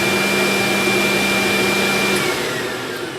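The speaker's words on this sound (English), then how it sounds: "This one is going to turn on the vac motor. That turns on the vacuum." A Mach 710/810 floor scrubber's vacuum motor runs with a loud, steady whine and airy roar, holding constant before easing slightly lower toward the end.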